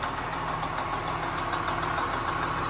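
An old truck engine idling while warming up, a steady, even, fairly quiet running sound with faint rhythmic ticking and no talk.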